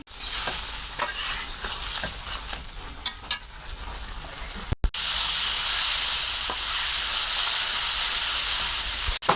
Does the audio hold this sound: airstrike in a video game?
no